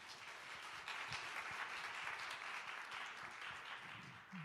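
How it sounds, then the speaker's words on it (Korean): A church congregation applauds to welcome a pastor at a Sunday youth service, a sustained, even patter of many hands clapping, faint and distant in the hall. "우리 박수로 환영하겠습니다."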